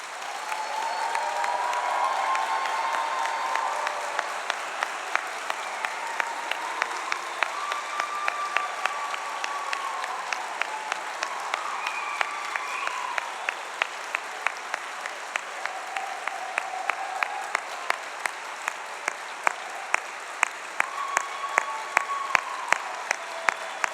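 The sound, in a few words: audience applause for graduates at degree ceremony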